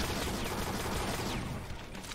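Rapid, dense weapon fire from Brutal Doom v21 on Map 22, a continuous loud burst of shots that holds steady for about two seconds before easing slightly.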